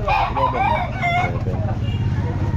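A rooster crows loudly and close by at a pet market in Calumpit, one long drawn-out call with clucking fowl around it.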